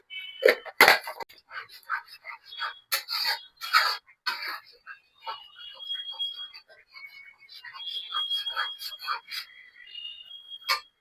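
A spatula scrapes and stirs spices, with coriander powder just added, in a cooking pan while making Bengali prawn malaikari, giving intermittent close rasping strokes with short pauses.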